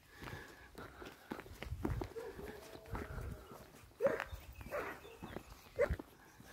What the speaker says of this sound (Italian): qui abbiamo il cane che abbaia